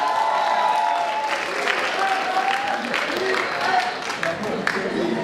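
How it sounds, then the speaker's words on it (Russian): Loud audience applause fills a KVN comedy show hall, steady dense clapping with some cheering throughout, and a few voices audible within the crowd. "ваши громкие аплодисменты"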